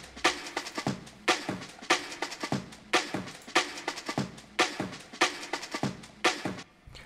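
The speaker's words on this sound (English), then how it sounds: "we have this classic jungle break that sounds like this" Classic jungle drum break sample looping alone in a fast, busy rhythm, with crisp snare hits and shuffling cymbals over a light low end, steady and fairly loud.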